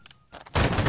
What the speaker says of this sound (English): Volley fire.